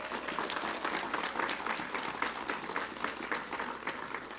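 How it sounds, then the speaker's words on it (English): An audience at a national debate in Belize City applauds Ecumenical Junior College with steady, dense clapping across the whole stretch and no talk over it. "Let's hear a round of applause for Ecumenical Junior College."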